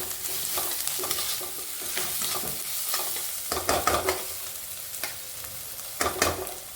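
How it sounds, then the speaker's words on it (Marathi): Onion, ginger-garlic paste and green chillies sauté in a pan with a continuous close sizzle, broken by scraping and clattering stirring strokes, with no talking. "त्यामध्ये आता आलं लसूण पेस्ट टाकूया, हिरवी मिरची टाकूया। ती 2 मिनिटं परतून घ्यायची छान।"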